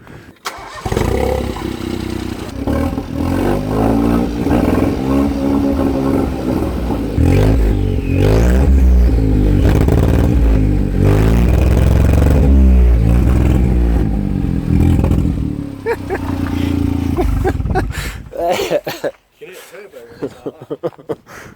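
Ford Fiesta Mk7 with its exhaust removed, engine running loud and raw with several rising revs and falling back, a clattery roar up close that cuts off near the end.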